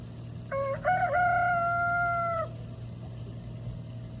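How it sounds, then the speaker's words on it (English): A single rooster crows once, a loud, drawn-out cock-a-doodle-doo lasting about two seconds, over a steady low background hum. "Does anybody know why roosters crow?"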